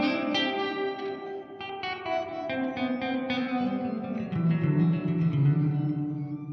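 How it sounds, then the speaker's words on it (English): Poly Effects Beebo guitar pedal set to a heavy reverb effect on an electric guitar, sustained chords and notes washing together in a dense, continuous stereo tail throughout, no voices. "Too much maybe, I can go inside and lower the gain of the reverb."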